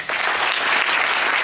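Audience applause at the opening of the 17th Shakespeare Festival, dense steady clapping from a large indoor crowd, loud and continuous.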